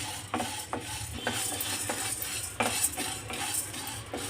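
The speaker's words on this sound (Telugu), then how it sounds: "కలర్ మారి మంచి సువాసన వచ్చేంత వరకు ఈ పచ్చిపప్పు వేపుకుందామండి" Chana dal frying in a pan over a low flame, with repeated metal spoon scrapes and clinks against the pan over a faint sizzle, no talking.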